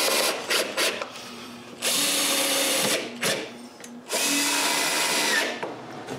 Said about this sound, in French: c'est assez facile de visser tout ça au mur